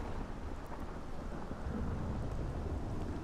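A thunderstorm rumbles in the video game Morrowind on the Dagon Fel coast: deep, rolling thunder over a steady wash of rain, filling the whole short stretch with no talking.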